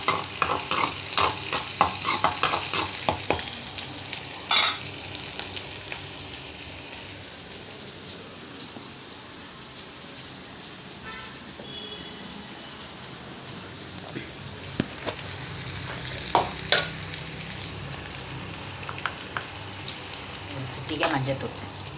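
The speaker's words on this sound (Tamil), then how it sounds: "ஆனியன் போட்டு ஃப்ரை பண்ணிட்டேன்" Onions frying in a pan, a dense crackling sizzle that is louder at first, settles into a quieter hiss mid-way, then swells again with stirring clatter near the end.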